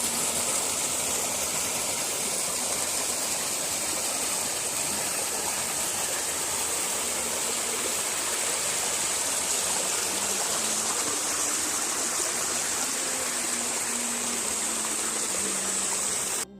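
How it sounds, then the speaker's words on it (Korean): Yard-end waterfall at a village house entrance, a steady broadband rush of falling water running the whole time with a low engine-like hum beneath, fairly close and continuous, no talking. "마당끝의 폭포수를 잠시 감상하시겠습니다"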